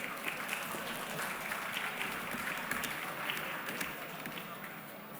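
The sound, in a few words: audience applause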